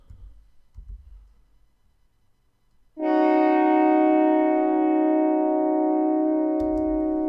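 Orchestral horns hold a low 3-2 voicing with bass clarinet, a sustained rich chord that swells in after soft background noise and rings steadily to the end, with no talk.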